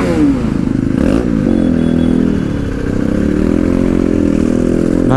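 A Bajaj Pulsar NS 160 or RS 200 motorcycle engine drones steadily and close while riding in traffic, a loud continuous tone with slight rises and dips in pitch, alone without talk.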